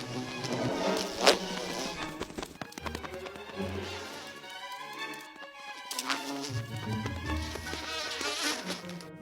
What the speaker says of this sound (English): Bees are too, and they don't like to share.